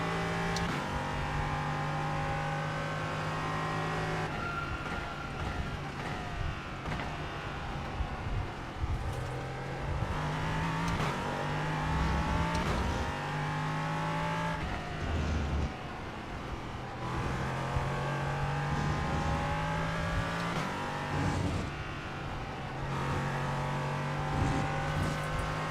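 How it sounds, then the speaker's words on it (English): An LMP3 prototype race car fitted with a rocket setup in a racing video game, its engine droning and revving continuously with repeated shifts and rising pitch sweeps, loud and alone without talk. "we have strapped onto the LMP3 a Remco rocket setup"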